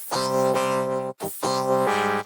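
A synthetic, buzzy vocal sound from a vocal plugin set to lowered resolution, syllables blurred, heard as two sustained phrases separated by a short gap, like a voice played through a synth.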